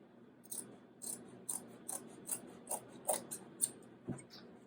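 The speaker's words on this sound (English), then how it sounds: "And I'll go ahead and cut my long strip before I get started." Scissors cut a long strip of material for a dog chew toy with about ten rhythmic, close snips at a steady pace, each a crisp slicing rasp, with no talk.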